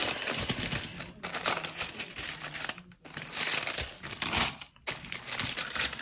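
Crinkling paper and rustling wrapping as a Dior package is unwrapped from its small box, loud and close, in continuous bursts broken by short pauses.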